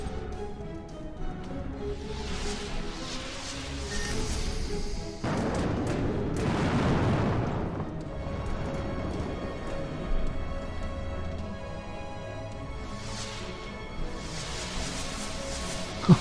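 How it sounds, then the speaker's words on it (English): An enemy ship blows apart under missile fire in the space game Between the Stars, a loud booming burst erupting mid-way over a droning sci-fi soundtrack, with a quieter blast later on. "The loud explosion was my clue that it was destroyed."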